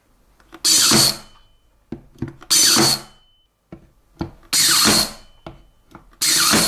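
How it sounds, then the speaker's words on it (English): A Parkside PAT 20 Li A1 cordless tacker drives brads and staples into 21mm MDF, giving four loud bursts of motor whir separated by quieter clicks and handling knocks, close and with no talk. "Next, I thought I'd see how the same brads and staples handle MDF."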